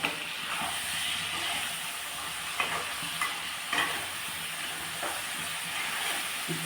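Onion paste and ginger paste sautéing in a pan for an egg curry, a steady broadband sizzle and hiss with a few soft stirring scrapes, close and continuous with no talking.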